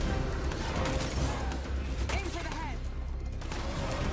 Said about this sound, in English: those gunshots are loud